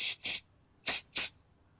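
Aerosol cleaner sprayed onto a car's mass airflow sensor in four short hissing bursts, two quick ones, a pause, then two more, close and clear with no talk.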